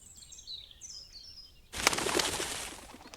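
In the Detective Di: The Silk Rose Murders game, a bird chirps a few times in the distance before a sudden loud burst of flapping wings as it takes off, with no talk.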